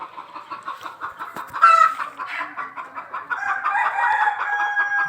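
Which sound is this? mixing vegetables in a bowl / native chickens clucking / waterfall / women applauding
native chickens clucking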